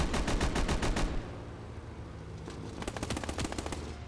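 Rapid machine-gun bursts fire in the Call to Arms Gates of Hell video game as a machine-gun position is destroyed. A fast staccato volley is followed by a brief lull, then another rattling burst.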